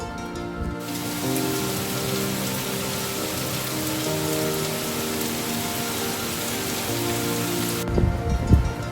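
Heavy torrential monsoon rain pours steadily over Karachi, a dense continuous hiss of downpour on surfaces from start to finish, with a few louder thuds or knocks near the end.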